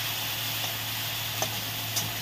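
Tomato, chilli and curry leaves sizzle in a pan for masala vermicelli, a steady close hiss with a low hum underneath and a few light scrapes and taps from stirring.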